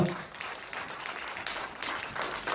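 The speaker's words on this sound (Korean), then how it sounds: "박수를 한번 주십시오" An audience at a political town-hall event in Suncheon, South Korea applauds in a steady wash of clapping, moderately distant, with faint voices mixed underneath.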